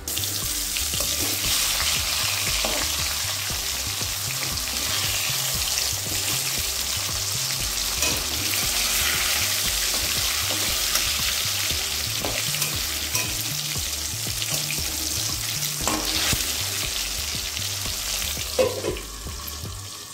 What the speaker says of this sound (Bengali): এইভাবে আলুটা ভাজা হতে থাক।